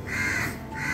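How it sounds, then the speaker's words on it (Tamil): A crow caws nearby, one harsh call stretched across the moment, loud and close with no voices present. "டிஸ்டர்ப் பண்ணாத காக்கா"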